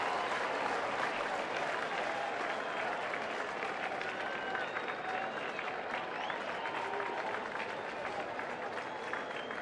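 A large baseball stadium crowd roars continuously for nearly ten seconds during a Texas at Detroit game, a steady distant wash of cheering and clapping with faint whistles rising above it.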